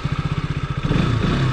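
KTM RC 200 motorcycle, a 200 cc sport bike, idles with a loud, close, pulsing exhaust thump that rises into a steadier, higher rev partway through, with no talk.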